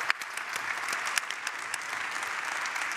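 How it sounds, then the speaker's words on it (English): Sustained audience applause at a Drupal keynote event, steady dense clapping from a crowd throughout, fairly distant with no talk over it. "we should just make an applause that they are here today contributing their keynote"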